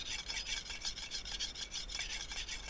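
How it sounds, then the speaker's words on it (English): A knife edge is ground on a sharpening stone to take metal off, making a close, dry rasping scrape in quick, even back-and-forth strokes. No one speaks. "this is just me grinding some metal off"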